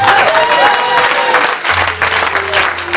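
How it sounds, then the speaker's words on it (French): A church congregation at a revival seminar applauds and cheers loudly, dense sustained clapping with voices rising through it and a speaking voice over the top. "Si tu crois, acclame le Seigneur plus fort."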